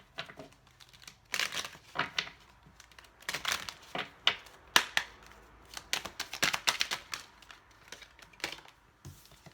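Rapid crisp shuffling flutters and taps of oracle cards in irregular bursts, close and fairly quiet, with no voices.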